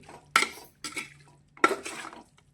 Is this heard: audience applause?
no